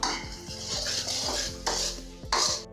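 A spoon scrapes and clinks rhythmically against a pan while rambutan pickle masala with fenugreek powder and salt is stirred, sharp repeated metallic strokes over a faint sizzle, up close with no voices.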